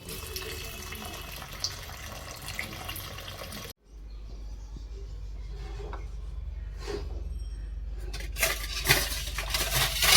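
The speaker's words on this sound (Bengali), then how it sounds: "আমি ঢাকনা সরিয়ে দেখছি দেখতে গিয়ে ভাতটা দেখছি হয়ে গেছে" A pot lid is pulled off a pot of freshly cooked rice in a home kitchen, with a metallic clank and clatter, then watery pouring and stirring sounds that grow busier.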